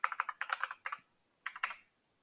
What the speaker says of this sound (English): Enter the password provided by your agency's administrator and click Sign In.